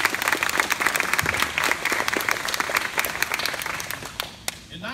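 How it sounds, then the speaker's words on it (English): An audience at a National Police Week ceremony honoring local police officers claps in sustained, dense applause that carries on and fades near the end. "Will y'all give them a round of applause?"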